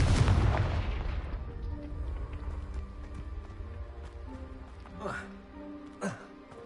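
A Confringo fire spell explodes in the video game Hogwarts Legacy, a loud close blast at the start that fades into a rumbling tail over quiet game ambience, with two softer whooshing accents later.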